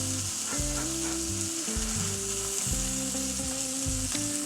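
A steak fries in a hot pan with a steady, close hiss of sizzling that runs under a loud, rhythmic music track, with no voices.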